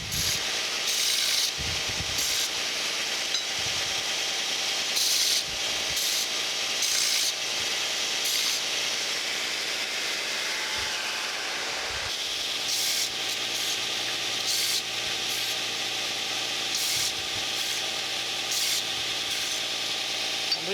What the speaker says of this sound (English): I want to do some just deburring, getting all these sharp edges off this steel. So I'm over at my belt sander